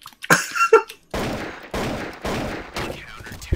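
Gunfire from Counter-Strike: Source gameplay: a sharp shot, then several dense bursts of rapid fire, loud and close, with brief gaps between volleys.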